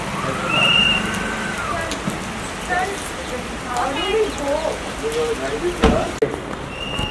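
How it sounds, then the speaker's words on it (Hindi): Steady rain hisses throughout, with scattered drips, while people talk and shout nearby over the downpour. "बारिश तो बहुत ज्यादा हो रही है इसके काफी।"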